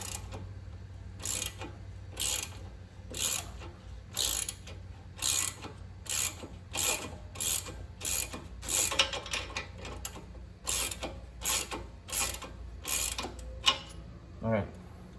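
Ratchet wrench loosening bolts on a 2019 Toyota Corolla hatchback brake caliper: a steady series of about fifteen sharp, close clicking bursts in a regular rhythm, with faint low hum beneath and no talking.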